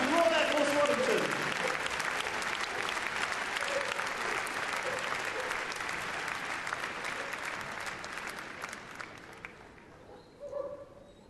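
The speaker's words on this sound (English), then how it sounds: "Big round of applause for our criminals today, ladies and gentlemen." Crowd at an RAF display team show bursts into loud, sustained applause that gradually tapers off, with a dog barking briefly near the end and an announcer speaking over the start.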